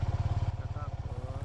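A just-started motorcycle engine idles close by with a steady, rapid low putter and even rhythmic pulses, while a person speaks over it.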